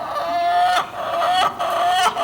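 Chickens cluck loudly and close up, a dense run of squawking calls with brief pauses between bursts, no talking over them.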